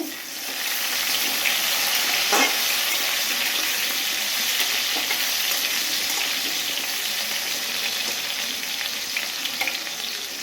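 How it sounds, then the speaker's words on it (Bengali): Potatoes fry in a pan for a Bengali vegetarian dish, a continuous loud sizzle with faint stirring and clinks, no voices. "ঢাকা দিয়ে আলুটা ভালোভাবে ভেজে নিচ্ছি।"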